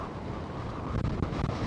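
Strong wind rumbles and buffets the microphone in a steady, dense roar with no voices, inside the dry Pantabangan Dam in Nueva Ecija.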